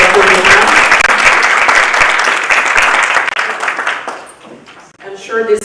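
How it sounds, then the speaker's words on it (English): Dense audience applause after a presentation at a conference, loud and sustained for several seconds before thinning out, followed by a voice speaking. "A hand of applause, please, for Dr. Boma."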